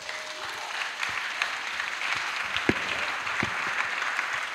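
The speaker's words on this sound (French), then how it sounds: "Acclamation." A church congregation at an annual missionaries' retreat claps in steady, dense applause, moderately loud and continuous, with scattered cheers and voices mixed in.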